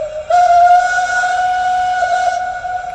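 An LGB Heidi model locomotive sounds a steady, sustained whistle tone that starts abruptly and holds for about two seconds before fading, loud and close with no talking.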